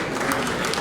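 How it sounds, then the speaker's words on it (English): An audience at an anniversary party claps briefly for a guest in a steady, dense patter of many hands. "Please put your hands together for Mr."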